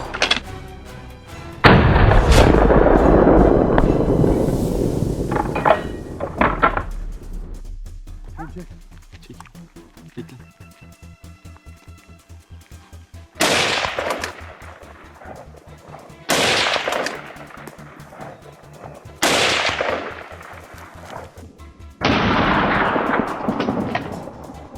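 Hunters fire on wild boar in mountain terrain, with several loud sharp shots spaced apart that ring out between stretches of quieter rustling. A dog yelps and barks in the background.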